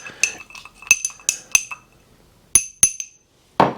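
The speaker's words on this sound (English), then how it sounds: "give it a stir one more time. There we go. Mix that all together." A spoon clinks against a glass while an old fashioned cocktail with orange peel is stirred, giving a series of sharp, bright taps with short pauses between them, close by and without talk.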